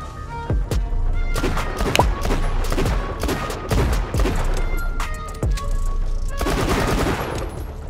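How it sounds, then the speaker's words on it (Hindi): A video game plays rapid-fire gunshots fired with the rapid-fire mode of a Dragonwar ELE-G9 gaming mouse. The shots come as loud, dense, continuous bursts with booming impacts throughout. "कई गेम्स में बस्ट फायर वाली गन्स को काइंड ऑफ फुल ऑटो पर हम शूट कर पाएंगे।"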